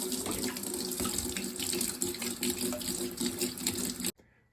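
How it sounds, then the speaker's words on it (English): Tap water runs steadily into a sink while a knife blade is washed with dish soap to degrease it before etching, a close, continuous splashing rush that cuts off abruptly near the end. "it's important to degrease your blade using some dish soap and water"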